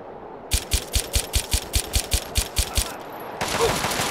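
Automatic gunfire in the video game Fallout 3, a rapid even burst of about twelve loud punchy shots, followed by a short gap and then a rising hiss.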